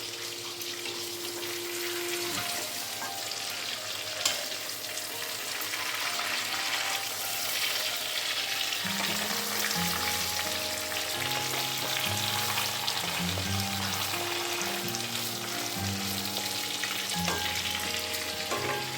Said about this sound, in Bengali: মাছগুলো একটু একটু করে সাঁতলে সব তুলে নেব